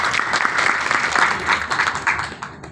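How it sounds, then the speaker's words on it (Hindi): A room of people at a company plan presentation giving loud applause, dense close clapping with a few uneven claps trailing at the end. "एक बार जोरदार तालियां सबके लिए।"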